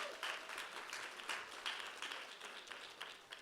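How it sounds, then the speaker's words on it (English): An audience at a Kwanzaa celebration gives a round of applause, a soft, steady patter of many hands clapping heard at some distance in a hall. "Give yourselves a round of applause for being here."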